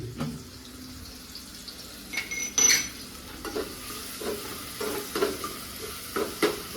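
Onion browning in hot oil, a soft steady sizzle near at hand broken by scattered clinks and stirring scrapes, with no talk.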